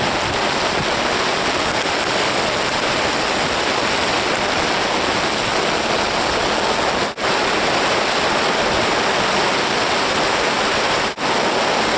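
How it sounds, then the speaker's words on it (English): Rain blows hard under a tarp beside a lake, a loud, dense, unbroken hiss of wind-driven water with two brief dips in level, and no voices. "It is raining. I mean, it's blowing all the way under the tarp."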